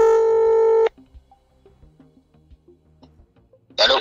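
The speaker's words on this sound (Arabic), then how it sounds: "طلع موبايلك واطلبه" A mobile phone on speakerphone, held up to a studio microphone, sounds a loud steady tone. A quick run of soft keypad beeps follows as a number is dialed, then another loud tone bursts in at the end.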